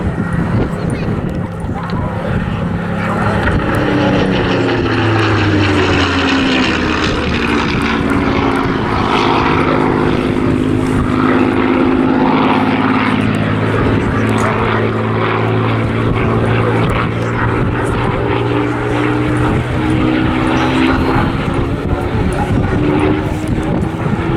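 Battle of Britain Memorial Flight propeller warbirds make a loud, close flypast at Southport Airshow, their droning engines rising and falling in pitch across the pass, with a commentator's voice and a dog barking underneath.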